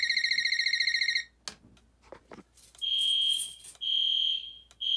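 An Edwards electronic fire alarm horn sounds in a fast buzzing pattern, breaks off into brief clicks and rustles, then returns in long, loud, steady high-pitched blasts.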